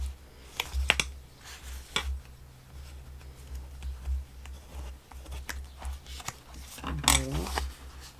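A bone folder scrapes and presses along paper folds while creasing an album, giving short sharp rubbing strokes and taps at irregular intervals over a low hum.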